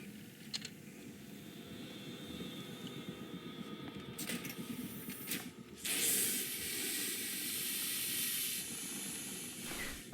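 A vent in the video game Alien: Isolation hisses steadily, swelling louder and brighter about midway and then holding a constant rushing hiss, fairly faint under a low game rumble with no talk.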